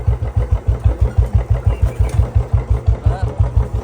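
A motorcycle engine thumps in a fast, even rhythm of loud low pulses, close by and steady throughout.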